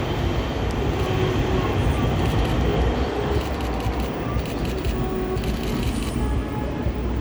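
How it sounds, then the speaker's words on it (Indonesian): A Jabodebek LRT light rail train, built by PT Inka, hums and rumbles steadily close by, with a constant low drone and faint metallic rattles throughout. "rangkaian kereta api LRT Jabodebek"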